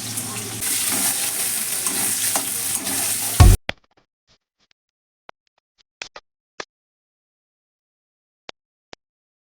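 Chopped onion, chili, garlic and ginger fry in hot oil with a loud, dense sizzle for about three and a half seconds. It cuts off abruptly into near silence broken by a few faint clicks.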